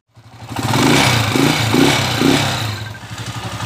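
A freshly overhauled motorcycle engine starts up and runs close by, loud and steady with a rhythmic pulsing clatter that eases slightly toward the end, with no talking.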